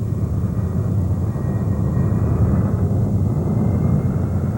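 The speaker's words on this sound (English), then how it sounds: "The Me-262 is the world's first fully operational jet fighter aircraft." Me-262 jet fighter, a WWII German aircraft, heard as a steady, loud, low roaring drone of engines with no breaks and no voices over it.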